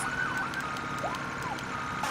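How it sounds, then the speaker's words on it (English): A toy fire truck siren warbles and swoops in pitch, steady and fairly loud, with small clicks scattered through it. "all have the same sirens and horns"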